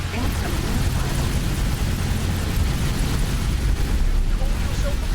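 Missile explosion in the space game X4: Foundations, a loud dense rumbling blast that roars steadily for several seconds without any break.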